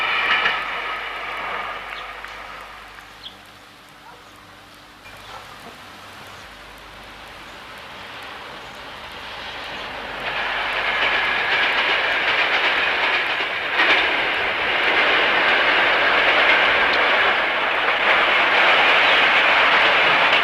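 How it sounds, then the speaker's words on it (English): A train rumbles past with a rhythmic clickety-clack, quiet at first, then swelling into a loud, sustained roar as the cars go by. "Train after train after train."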